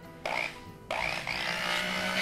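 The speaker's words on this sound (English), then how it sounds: "we're just going to turn our stick blender on the lowest setting." Stick blender on its lowest setting mixing oils and water in a pitcher, switching on with a sudden whirring burst, cutting briefly, then running again as a steady, close motor drone.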